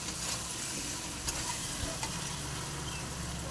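Potatoes and yam sautéing in a pan with a little water for a Bengali egg curry, giving a low, steady sizzle with faint scraping from the stirring and a few soft clicks.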